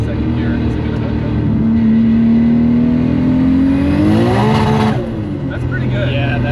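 A twin-turbo Nissan 370Z pulls hard in second gear, its engine note climbing steadily and loudly before breaking off abruptly near the end, then settling into a lower idle-like drone.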